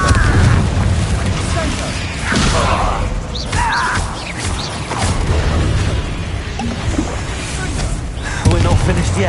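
Explosive spell blasts boom and crash repeatedly in a wizard-themed game, heavy rumbling impacts and creaking debris layered over a voice shouting spell names.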